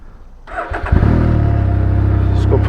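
A Can-Am Ryker three-wheeled motorcycle starts up and settles into a steady, loud, close engine rumble with slight revving, on a hot day with good riding weather.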